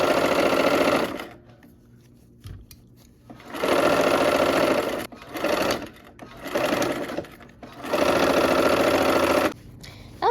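A sewing machine stitches quilt pieces together in several bursts of loud, steady whirring, broken by short quiet pauses with faint handling clicks between runs.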